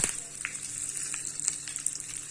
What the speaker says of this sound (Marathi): त्यातच आपण आपले जिरे जे आहे ते घालणार आहोत। छान असे कडकडून घ्यायचे।